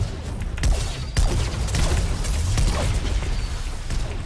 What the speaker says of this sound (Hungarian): ez a Tony Starkos kék nagyon idegesítő. Folyton lő és meg se áll.